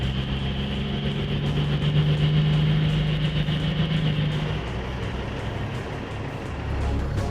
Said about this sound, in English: his engine is starting to protest